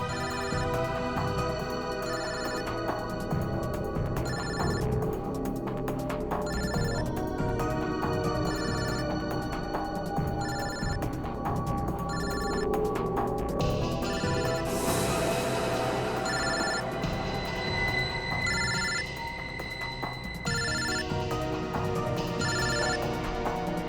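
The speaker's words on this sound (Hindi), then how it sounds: "फोन तो यही कहीं बज रहा है" A mobile phone ringtone plays continuously, a bright repeating electronic melody with a steady pulsing pattern, loud and close, with no one talking over it.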